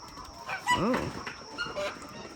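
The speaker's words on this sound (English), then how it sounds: "Oh, the goose got right in the bucket, guys." A goose gives one or two loud, nasal honks close by on a small farm, with a few softer squawks and clucks scattered around it.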